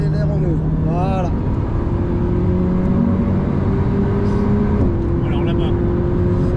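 Alpine A110 S engine pulling hard on the wet Spa-Francorchamps circuit, a loud steady drone rising in pitch with a shift partway through, heard from inside the car under a voice.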